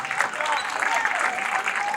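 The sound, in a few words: crowd applause at a basketball game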